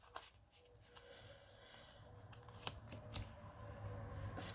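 Cards from a Magic Luna oracle deck being shuffled and cut, giving soft papery riffles and light taps close by over a quiet room hum, with no voices.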